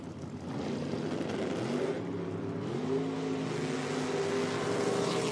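Quick rod drag racing cars run at a drag strip, engines droning and revving with rising, shifting pitch, moderately loud and steady throughout.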